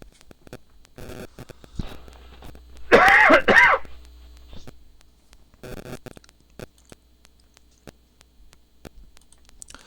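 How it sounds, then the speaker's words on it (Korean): A person with a cold gives one short, loud burst of throat-clearing cough mid-clip, surrounded by quiet clicks and faint movement noises. "감기가 걸렸는데 기침이 참 안 나고 있어요."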